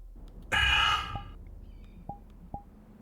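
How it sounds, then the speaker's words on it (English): A person gasps sharply for air, one loud rasping breath drawn in close to the mic. A few faint clicks come after it in the quiet. "I know you can hear me gasp."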